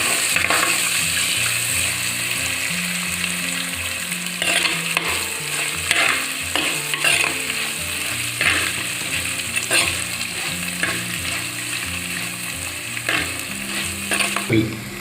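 Bitter gourd and chopped coconut pieces are stirred and fried in a pan for a bitter gourd theeyal, with a steady close sizzle and repeated scraping strokes of the spoon throughout.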